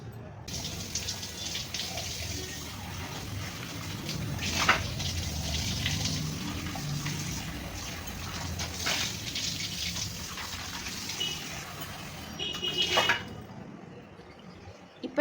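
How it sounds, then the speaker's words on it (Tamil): Iron kadai being rinsed under running water in a kitchen, a steady close splash and gush of tap water with occasional clanks of the pan, continuing throughout. "நல்லா அழுத்தி தேய்ச்ச பிறகு தண்ணியில் வாஷ் பண்ணி எடுத்துக்கோங்க."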